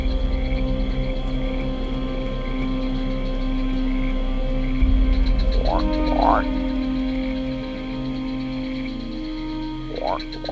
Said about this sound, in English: From within a hollow, a frog remains still.